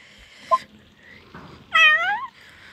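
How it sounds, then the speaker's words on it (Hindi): A cat meows in the video game Silly Royale, a short chirp followed by a longer, clear rising-and-falling meow, close and alone against a quiet background. "ये तो बिल्ली का ही बोल रही है।"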